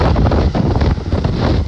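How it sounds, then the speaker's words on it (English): Strong gusty wind buffets the microphone outdoors at the demolition site of a middle and elementary school, a loud continuous roar rising and falling without a break. "It's windy as hell out here."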